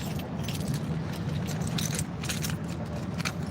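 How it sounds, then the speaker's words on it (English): A bunch of keys jingles and rattles close by in quick irregular metallic clinks over a low background rumble, moderately quiet, with no talking. "Got goddamn keys."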